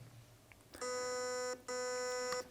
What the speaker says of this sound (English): the 2 beeps is 2 shots on semi